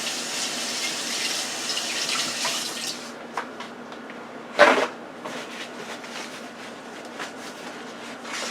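Tap water runs steadily into a kitchen sink during hand washing, a continuous hiss that eases after about three seconds, then lighter splashing with one brief louder clatter midway.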